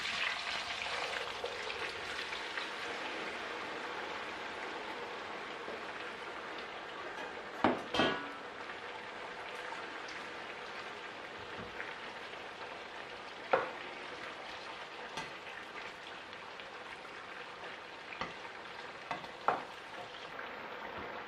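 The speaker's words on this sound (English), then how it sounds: "Very hot oil, extremely hot oil, which means we're ready to cook our potatoes." Potatoes frying in very hot oil for a Spanish tortilla give off a steady, close crackling sizzle that gradually softens, broken by a few sharp clinks of a utensil against the pan, with no voices.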